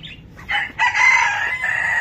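Hens and roosters in a mini zoo: a rooster crows loudly and close by, a drawn-out call following a few short clucks, alone without talk.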